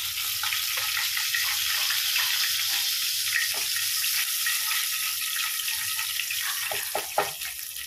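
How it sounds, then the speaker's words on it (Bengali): Bay leaves and cumin seeds tempering in hot oil left over from frying pointed gourd, a steady close sizzle and crackle running throughout with a few faint clinks near the end. "এই তেলের মধ্যে পটল ভাজার যে তেল রয়েছে এটার মধ্যে আমি ফোড়ন দিয়ে দেব"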